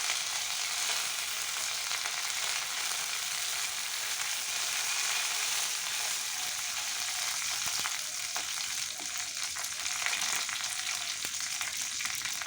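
Chickpeas and curry leaves fry in hot oil with a steady, dense bright sizzle and occasional small pops and crackles, continuous and close, with no talking.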